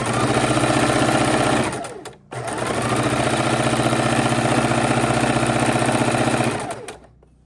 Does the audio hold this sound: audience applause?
no